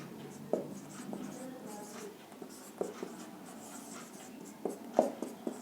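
Chalk or marker writing on a board during a physics optics lecture, faint scratchy strokes in short irregular bursts with a few sharper taps, heard at a distance in a quiet room.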